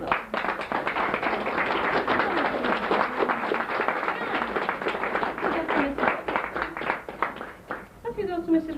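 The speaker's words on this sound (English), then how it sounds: "Give them a round of applause." Parents and pupils give sustained applause after a school nativity play, dense clapping that fades near the end as a voice begins to speak.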